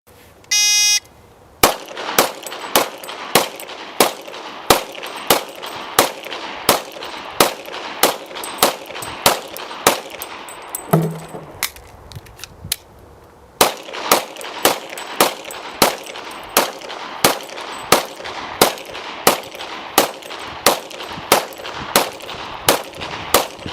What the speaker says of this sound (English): Christy is going to demonstrate by shooting the 2 15-round magazines at our 3 targets.